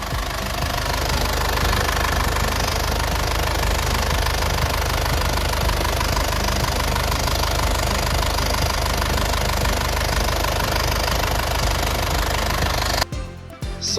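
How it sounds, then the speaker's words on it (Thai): A 3.0-litre diesel engine of an Isuzu Dragon Eye four-door pickup truck idles steadily and close by, with a constant knocking chatter that ends abruptly near the end. "เครื่องก็เดินเรียบเดินนิ่งนะครับ"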